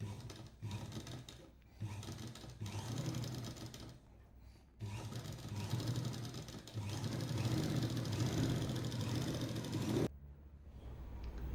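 A sewing machine stitches the lining of an Aari blouse in close, rattling bursts of varying length, separated by brief pauses, with the motor hum rising and falling as the cloth is fed.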